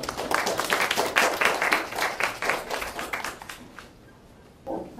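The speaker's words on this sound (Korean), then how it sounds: "큰 박수 부탁드리겠습니다" Applause from a symposium audience welcoming a student presenter: moderate clapping from a modest crowd that builds quickly, holds for about three seconds, then fades out into near quiet with a brief sound at the end.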